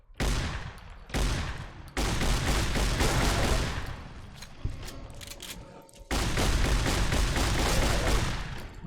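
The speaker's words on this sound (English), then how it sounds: "this shotgun works quite well on death claws" Shotgun blasts at deathclaws in Fallout: New Vegas, a few loud close booms with long rumbling tails that blend into a sustained roar of gunfire and combat noise.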